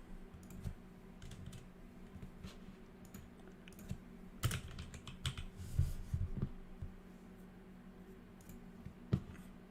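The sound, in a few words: typing on a PC computer keyboard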